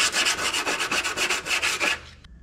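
Steel Model A Ford fender being sanded by hand with 80-grit sandpaper, quick rhythmic back-and-forth rasping strokes, close and steady, ending abruptly.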